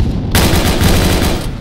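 Close, loud burst of automatic rifle fire at an enemy in the military game ARMA 3, a steady rapid stream of shots lasting about a second before cutting off.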